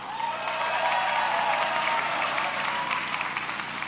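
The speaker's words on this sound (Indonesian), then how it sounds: "kita berikan aplaus Bang Bahlil Lahadalia" An audience applauds to welcome Bahlil Lahadalia at a young entrepreneurs' declaration event, a steady wash of many hands clapping from a crowd that holds level for several seconds.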